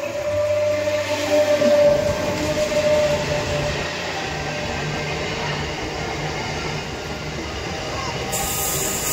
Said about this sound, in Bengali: সাইডের দিকে একটা ট্রেন গাড়ি যাচ্ছে